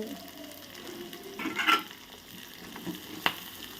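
Vegetables with corn, green chillies and curry leaves lightly frying in a pan, a soft steady sizzle with a few stirring scrapes and one sharp clink near the end, close and fairly quiet.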